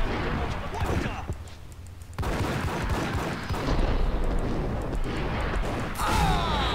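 Bursts of gunfire and heavy impacts from an enemy in Max Payne or Doom, dense and overlapping with loud cracks and a sharp break mid-way, mixed with game noise.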